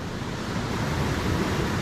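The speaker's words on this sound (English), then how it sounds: "right now with the waves and stuff rolling in" Ocean waves rolling in on a beach, a continuous close rush of surf mixed with some wind noise, with no talking.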